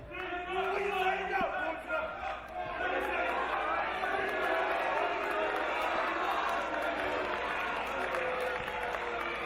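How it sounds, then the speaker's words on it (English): An arena crowd roars and cheers at a pro wrestling match between Pentagon Jr and Pete Dunne, a loud sustained crowd swell with shouts, under a commentator's voice. "This crowd solidly behind Penta."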